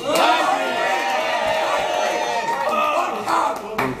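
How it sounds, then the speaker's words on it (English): A crowd at a rap battle event cheers, whoops and claps loudly, a sustained roar of voices with scattered claps, close and continuous with shouting mixed in. "Make some noise for Tydal."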